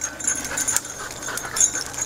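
Dogs pant and whimper close by outdoors during play, soft rapid breathing with faint high whines over a steady background.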